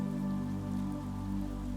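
Steady rain sound effect for a children's bedtime story, a continuous even patter of raindrops on a surface with no voices, holding a constant moderate level throughout.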